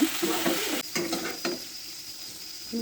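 Potato pieces sizzle in a hot pan with a constant frying hiss, while a spoon scrapes and knocks through them a few times before the stirring pauses.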